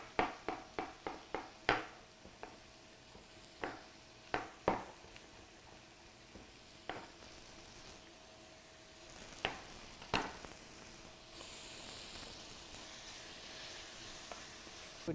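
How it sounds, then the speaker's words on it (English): Scallops and mushrooms in a pan give a soft, steady sizzle broken by a string of sharp spits and pops, clustered at the start and then scattered, fairly faint and with no talking. "we're just going to cook that until all that liquid is gone"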